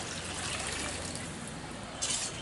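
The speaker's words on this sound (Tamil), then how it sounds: "இப்போ நம்ம இது தேவையான அளவுக்கு தண்ணி விட்டு கொதிக்க வச்சிடலாம்." Water poured into a pot of country chicken rasam, a steady faint trickle and splash running alone with a brief louder gush near the end.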